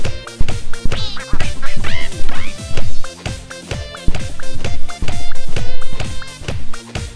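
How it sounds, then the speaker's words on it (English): A bird flying sound effect from the rhythm game Rhythm Paradise Megamix plays amid loud, fast rhythmic game music, with dense repeated taps and swooping chirps in a steady beat. "That bird flying sound is a little bit familiar."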